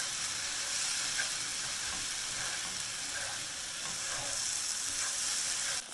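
Tofu stir-fries in a pan with ginger and onion, giving a dense, even sizzle and crackle at close range with soft stirring textures and no talking.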